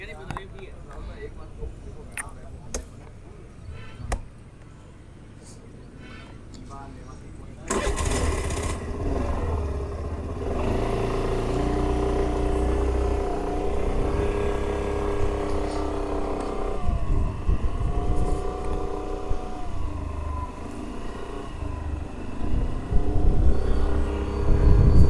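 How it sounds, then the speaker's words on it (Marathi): A new scooter is started, a few faint clicks and taps first, then the engine catches and settles into a steady close idle rumble that swells slightly and keeps running, while someone talks over it. "तर गाडीला चालू करूया आणि आपण आता रायडिंग पोझिशनमध्ये भेटूया."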